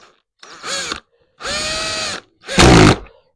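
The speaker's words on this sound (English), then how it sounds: "I use this little lightweight screw gun for my screws." Small, lightweight screw gun, roughly fifteen years old, driving screws in three close bursts of whirring motor and clutch rattle, the last one loudest and heaviest, with short silences between.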